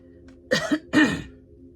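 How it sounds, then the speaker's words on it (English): Two short, harsh coughs in quick succession, close and fairly loud, then silence. "And I coughed just now too"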